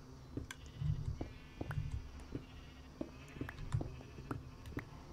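Sheep bleating in the video game Minecraft on a survival wool farm, several rounded bleats repeating at a moderate level over steady game ambience, with no speech.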